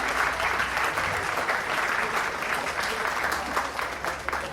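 Steady applause from an audience, dense clapping filling the whole stretch at an even, fairly loud level without letting up.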